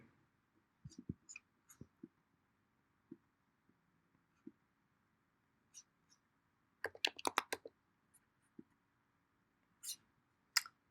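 Computer mouse clicks while saving an appointment in Zoho CRM: sparse, quiet single clicks early on, then a brief cluster of rapid clicks, followed by a few more isolated taps, close and alone in a near-silent room.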